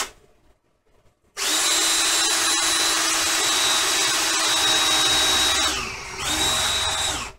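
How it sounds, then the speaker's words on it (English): After a quiet start, a power drill whines steadily and loudly while drilling into an amplifier chassis, dips briefly, then spins up again before stopping. "I need to drill into this spot to be able to have the room required"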